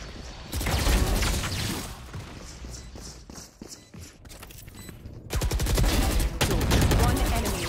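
Rapid gunfire bursts in a Valorant match, loud dense volleys early and again near the end with a quieter stretch between, mixed with game effects and caster talk.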